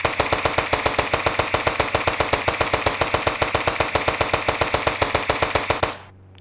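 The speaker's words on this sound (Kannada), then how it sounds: "AK-47 ಶೂಟ್ ಮಾಡುವ." An AK-47 in a zombie shooting video game fires one long unbroken burst of rapid, evenly spaced loud shots for about six seconds, then abruptly stops into quiet.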